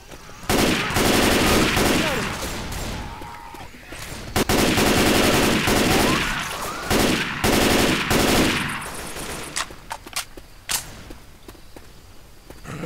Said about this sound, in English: I like this shotgun a lot. That's my way of shooting people.